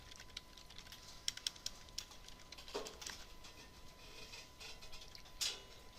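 Someone types on a computer keyboard while entering a small program, a faint, quiet run of scattered key clicks with uneven gaps between the taps.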